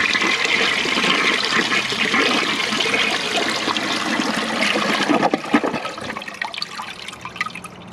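A 2003 Briggs Altima toilet flushes with a loud, close rush of water that tapers into gurgling and trickling refill sounds.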